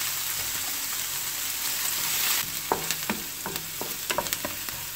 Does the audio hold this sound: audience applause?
no